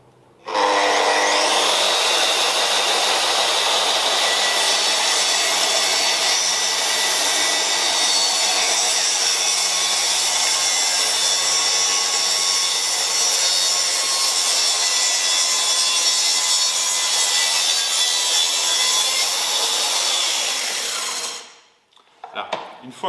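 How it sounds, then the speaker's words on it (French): A plunge saw guided along a track rail cuts steadily through a wooden panel, a loud continuous whining rasp that holds for about twenty seconds before winding down near the end. "Je vais la mettre en route et attendre qu'elle ait démarré, qu'elle ait atteint sa vitesse de rotation avant de plonger la lame dans le panneau."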